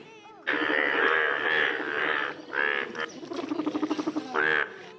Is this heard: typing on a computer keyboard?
no